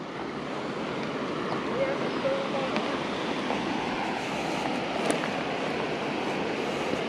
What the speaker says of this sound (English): this little creek is running good